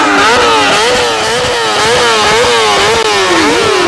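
Motorcycles rev hard near an industrial estate outside Montmeló, a loud continuous engine drone with rising and falling pitch sweeps as riders blip and accelerate, close and sustained throughout.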